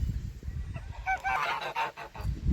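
Geese gathered at a farm on a dry February day give several close, nasal honks in quick succession over low outdoor rumble.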